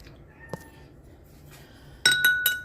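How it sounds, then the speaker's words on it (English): Utensil stirring a homemade fake blood mixture in a glass container, producing a quick series of bright ringing clinks near the end after a quiet stretch with a single earlier tap. "Give it a good stir."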